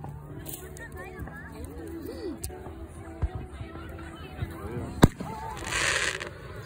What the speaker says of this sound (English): Apparently they're doing fireworks right behind us